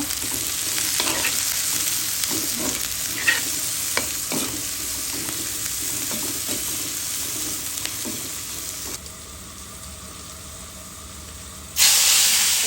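Mixed fish with potato, eggplant, radish and bitter gourd frying with turmeric and salt, stirred in a pan. A dense hiss and steady sizzle carry scattered scraping strokes before the frying sound drops lower and then surges again.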